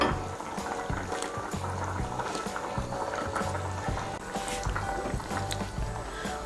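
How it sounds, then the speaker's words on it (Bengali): Potol bora curry gravy bubbling in a pot on the stove, a busy broadband simmer of popping and gurgling liquid that stays steady and fairly close throughout, with no talking. "এই দেখুন ঝোলটা আমার ফুটে উঠেছে।"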